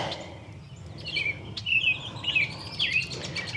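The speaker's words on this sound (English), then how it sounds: "You guys can just listen to the birds with me." Several birds chirp and sing at a distance over a steady low outdoor rumble among wild blackberries in bloom, with bright tweeting phrases repeating throughout.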